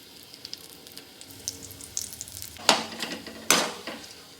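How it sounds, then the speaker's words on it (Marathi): Dates being stirred in ghee in a pan over low heat for a no-sugar dried fruit ladoo: a soft, steady low sizzle with two sharp, louder scraping strokes of the spoon near the end, with no voices. "खजूर टाकून चांगले हलवून घ्यायचे आणि ते खजूर चांगले विरघळले पाहिजे"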